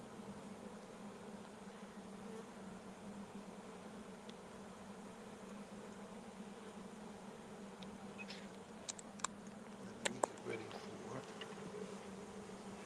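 Honey bees buzz around a swarm, a dense, continuous drone from many insects close by, with a few louder passes and faint taps near the end.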